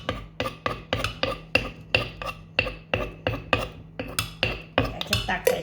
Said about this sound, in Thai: จะตักใส่ชามให้ดู